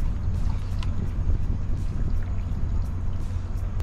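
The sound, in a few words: boat being driven while fishing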